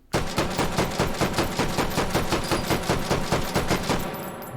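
Madsen LAR rifle in H3VR fired in semi-auto, a steady run of about a dozen loud, evenly spaced single shots at a quick pace, then a short quieter tail, with no talking.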